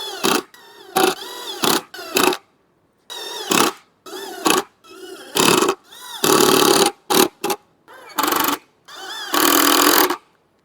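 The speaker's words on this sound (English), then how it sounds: "now it's just an issue of driving all these screws" A power drill drives screws into a DIY hidden door in repeated loud, whirring bursts of one to two seconds, separated by short pauses, with no talking.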